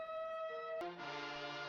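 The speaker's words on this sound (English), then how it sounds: "as the sirens come closer" A police siren in the film Rope, its steady wailing tone holding then shifting pitch and growing louder partway through as it draws nearer, with no talk over it.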